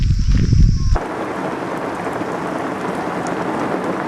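Steady rain from a thunderstorm hisses across the whole clip after a brief louder rumble at the start, heard at a campsite, with no voices.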